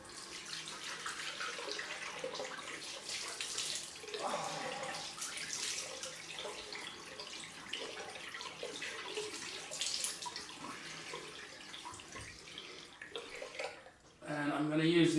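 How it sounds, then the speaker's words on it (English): Cold tap water running into a bathroom sink for a post-shave rinse, a steady close splashing rush with intermittent hand splashes, ending with a brief clatter. "Time for a cold rinse."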